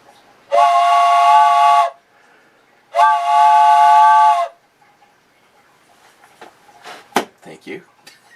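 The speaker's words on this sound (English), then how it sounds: "Poor train whistle." Two long steady whistle blasts, each about a second and a half, loud and close, followed by scattered clicks and knocks.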